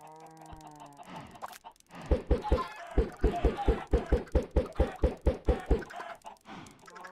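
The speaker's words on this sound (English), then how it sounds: "There's something cathartic about throwing eggs at chickens." Chickens in a video game cluck in a quick, evenly spaced run of about a dozen loud, close bursts after a brief lead-in of other game sounds and knocks.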